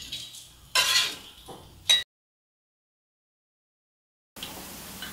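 A metal spatula scrapes and clinks against a pan and plate while lifting breaded tofu, in two short bursts, followed by a silent gap and a faint return of background.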